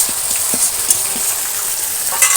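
Chicken fries in hot oil in a pan, with a loud, steady, close sizzling hiss throughout and faint occasional clinks of stirring underneath.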